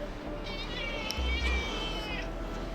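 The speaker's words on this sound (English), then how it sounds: "So, he's our cat." A cat meows in several drawn-out, wavering calls indoors, heard up close over a low background rumble, with no one talking.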